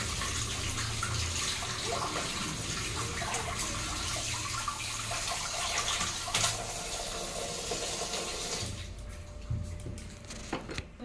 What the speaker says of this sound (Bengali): তো শাকগুলো এখন আমি ভালো করে ধুয়ে নেবো